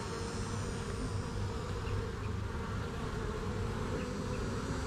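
A dense, steady hum of many honey bees buzzing close by during a hive cut-out, continuous and unbroken with no voices.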